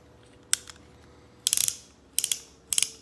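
A Taylor's Uberti Smoke Wagon Deluxe .357 Magnum revolver has its action worked in four close bursts of sharp metallic ratcheting clicks, crisp and near in an otherwise quiet room.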